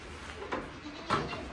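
Goats on a farm in freezing winter weather give two short, rough bleats about half a second apart, moderately close, over a steady background hiss.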